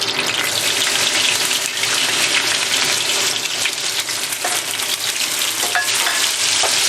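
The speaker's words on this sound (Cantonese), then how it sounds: "呢個時候梗係炒咖喱啦，炒咖喱膽啦" Steady, loud sizzling of curry paste frying over medium-low heat in a hot wok, with scraping and stirring noises throughout and no voices.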